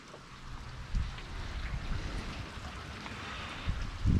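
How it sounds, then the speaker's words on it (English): Warm rain falling outside, a soft continuous patter and hiss with a few louder gusty thumps of wind on the microphone, fairly faint overall. "It's a very pretty rain right now."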